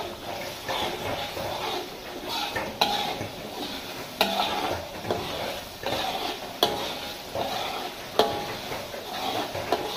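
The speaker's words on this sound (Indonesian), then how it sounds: "Kita biarkan bumbunya itu sampai menggelegak ya, sampai benar-benar habis airnya dan sampai mengental." Spicy-sweet seasoning sauce for cassava chips simmers and thickens in a pan, with steady sizzling and bubbling broken by rhythmic scrapes and clinks of a utensil stirring against the pan, alone and close.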